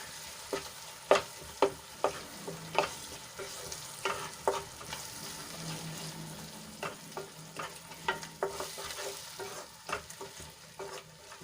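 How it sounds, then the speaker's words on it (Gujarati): Tomato puree stirred into frying onions for Punjabi-style rajma, a continuous sizzle punctuated by a series of spoon scrapes and clinks against the pan, near and moderately quiet, without speech. "બે મોટા ટમેટાની પ્યુરી બનાવીને લઈ લીધી છે એ એડ કરી દઈશું સરસ રીતે ડુંગળીમાં મિક્સ કરી લઈશું"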